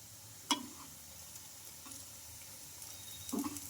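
Ridge gourd vadas frying in hot oil, a low steady sizzle with a few soft clicks and taps from turning them in the pan, faint and close.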